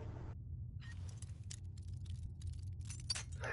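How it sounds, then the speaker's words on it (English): Lockpicks clicking and scraping in a lock in Skyrim, a few soft metallic clicks and jingles over a low steady hum, faint and brief. "Oh my god, I'm clicking lockpicks!"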